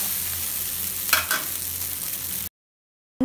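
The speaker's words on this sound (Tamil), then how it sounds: "தோசை ஊற்றிட்டு 4 பக்கமும் எண்ணெய் விட்டு நல்லா இதை ரோஸ்ட் பண்ணி எடுத்துக்க போகிறோம்." Foxtail millet dosa roasting in oil on a hot pan gives a steady close sizzle and fry for about two and a half seconds, with a brief scraping stir near the middle, then it cuts to silence.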